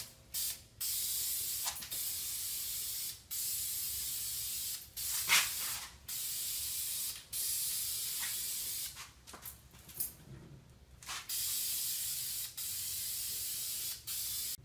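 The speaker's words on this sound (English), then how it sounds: "All right, I got me my red spray paint here." Red spray paint hissing from an aerosol can onto a custom throwback football helmet, in a series of steady bursts of a few seconds each, separated by short pauses, close and fairly loud with no talking.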